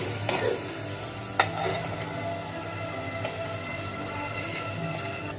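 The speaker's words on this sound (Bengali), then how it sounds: "দুটো তেজপাতা, 2 টুকরো দারচিনি, 2টো সাদা এলাচ আর একটা লবঙ্গ ভেজে নিব 30 সেকেন্ডের মতো" Bay leaves, cinnamon sticks, cardamom pods and a clove fry in hot oil, giving a steady, close hissing sizzle with a few faint clicks of a utensil against the pan.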